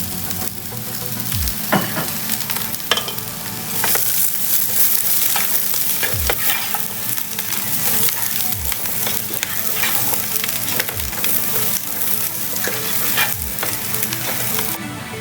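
Chilli chicken with green chillies is stir-fried in a pan, with a steady loud sizzle throughout and periodic scraping thumps of a spatula.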